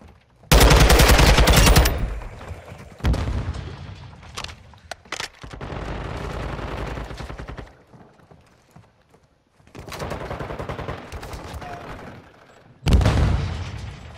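Loud bursts of automatic gunfire from Call of Duty Modern Warfare 2 multiplayer ranked play, several rapid volleys separated by short pauses, with a final sharp burst near the end.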